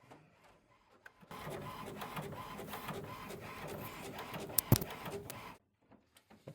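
An HP OfficeJet Pro 8125e inkjet printer running off a page: a steady mechanical whir and clatter of the print head and feed lasting about four seconds, with one sharp click near the end before it stops.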